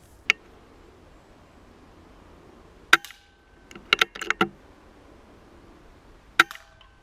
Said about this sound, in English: There's just a firm thud from the action that lets you know you've put some lead